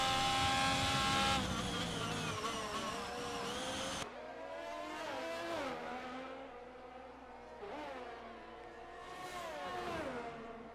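F1 cars in the F1 22 video game at the Austrian circuit, a dense pack of engines screaming and shifting through gears, loud and continuous with rising and falling revs.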